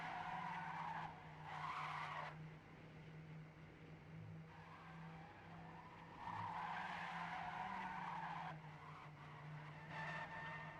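Tires squeal and skid as a car drifts through a downhill section of an online racing game league event, engine droning steadily beneath with bursts of screeching that rise and fall in repeated drifts.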